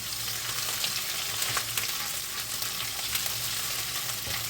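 Mashed boiled potatoes with tomato paste fry in a pan, giving a steady close sizzle with soft crackles and occasional stirring scrapes, no talk.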